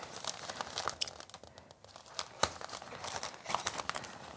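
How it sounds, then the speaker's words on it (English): Adhesive tape torn off a roll while wrapping a flower bouquet, heard as crinkly ripping and rustling with a sharp crackle midway and more tearing after, fairly close and moderately quiet with no talking. "I would put a bit of tape on it"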